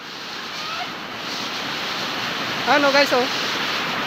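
A waterfall at Banti Falls roars steadily with a broad, constant wash of rushing water, while a voice speaks briefly over it near the end.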